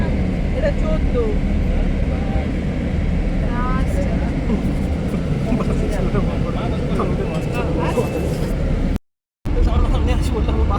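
A sleeper bus arrives with a loud, continuous engine rumble and road roar close by, broken by a short silent gap near the end.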